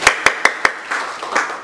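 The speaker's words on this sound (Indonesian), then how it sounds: "Kita tepuk tangan" A single person claps four sharp, evenly spaced times in a classroom, close to the microphone. Softer, scattered clapping from a few others follows briefly.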